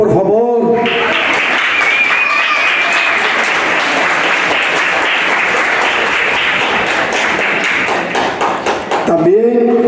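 A crowd at a Topa del Toro event in Chicago breaks into loud, sustained applause that lasts about nine seconds, framed by a speaker's voice at the start and the end.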